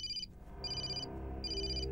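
A telephone rings in a police station scene from a Hong Kong action film, sounding repeated electronic trills in regular bursts over a low background hum.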